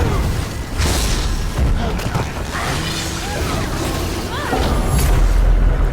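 A detonation in Evil Dead: The Game sets off low booms that rumble through busy in-game noise, with a stronger burst near the end.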